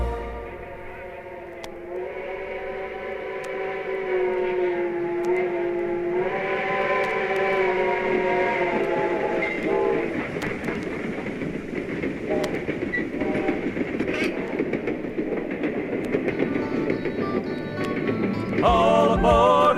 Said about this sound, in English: All aboard America, here comes the freedom train